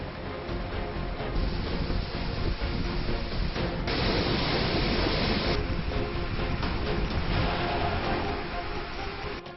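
Monsoon waterfall and rain-swollen rivers in Dang, Gujarat pour in a steady, dense roar of rushing water that fills the whole scene, swelling slightly in the middle with no voices heard.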